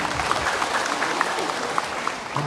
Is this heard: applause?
yes